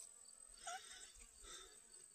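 Honeybees gathering pollen on sunflowers in a front garden make a faint, brief buzzing that rises and falls as they move about the blooms.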